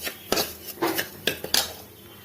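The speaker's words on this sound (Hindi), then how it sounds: "आधा गरी का बुरादा डाल देंगे और इसको फिर से भूनेंगे" Vermicelli and desiccated coconut being roasted in a pan, with a utensil clinking and scraping against the metal in a few sharp, separate knocks, fairly close and with no talk.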